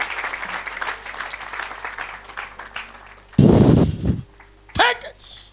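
A church congregation claps and cheers in a loud, short burst after a stretch of murmuring hall noise, followed by a brief whoop-like cry.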